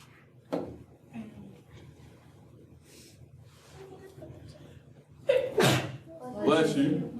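A sneeze bursts out loudly near the end in a lecture room, following a short earlier sound, with a lecturer talking quietly through most of the stretch.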